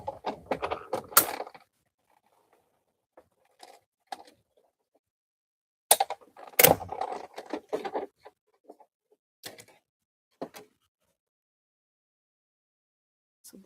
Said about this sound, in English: Let me just go ahead and die cut this.